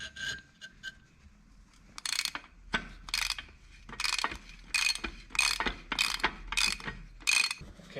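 Bolts on a John Deere 140 three-point hitch are loosened with a ratchet, giving a series of sharp, close clicking bursts that come in an irregular rhythm after a quieter opening.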